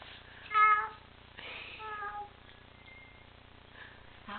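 A child imitates a cat, giving a few short meow-like calls, the first loudest, spread over a few seconds in a quiet outdoor setting.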